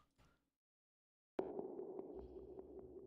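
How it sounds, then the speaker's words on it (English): A synthesized Aurora preset on a virtual instrument, meant to evoke the aurora borealis, swells in after a brief faint blip and silence, sustaining a steady shimmering tone with soft flickering accents, alone and fairly quiet. "this is from a set called Aurora,"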